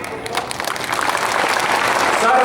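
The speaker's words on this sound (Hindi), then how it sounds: "तीनों का ताली बजा के स्वागत करिए" An audience at a Yadav community gathering in Ambikapur applauds to welcome leaders, the clapping swelling steadily from moderate to dense and loud.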